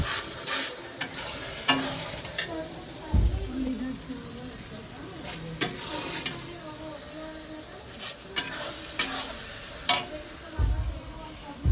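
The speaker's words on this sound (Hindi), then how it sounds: "तो भाई सब इधर मेरा मसाला बन जा रहा है।" Masala frying in a pan in a home kitchen, a soft steady sizzle broken by repeated scraping stirs and occasional clinks of a spoon, with a person talking over it.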